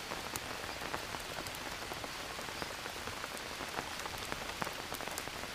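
Steady rain falling in the survival video game Green Hell, a dense, even patter of drops hitting surfaces throughout with small scattered splashes, with no talking.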